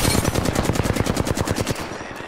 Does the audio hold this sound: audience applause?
no